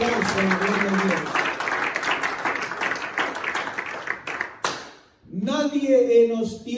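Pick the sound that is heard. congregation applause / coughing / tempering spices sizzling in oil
congregation applause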